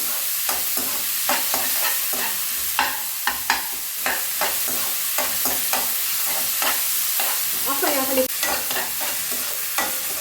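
Onions fry in a pan, with a quiet continuous sizzle broken by repeated scraping and stirring strokes of a spoon, close and fairly soft.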